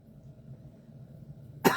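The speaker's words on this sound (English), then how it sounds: "I have no idea why I have a cough" A single short cough near the end, after a stretch of quiet low room noise.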